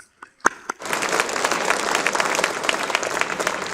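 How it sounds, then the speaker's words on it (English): Audience applause at a storytelling event, starting with a few isolated claps and then swelling into dense, sustained clapping from a crowd close by. "Another round of applause for Liz."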